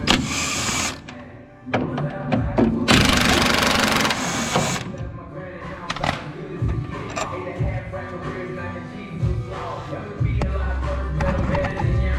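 Bolts being loosened with a power or ratchet wrench on a Honda Del Sol under restoration: two loud whirring bursts of tool noise, with rattling and clanking of parts between them and low murmured voices.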